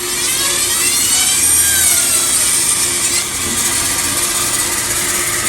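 A bandsaw makes an angled cut through a carved wooden bluebill duck decoy, giving a loud, continuous, even whine with a steady grinding hiss and no talking.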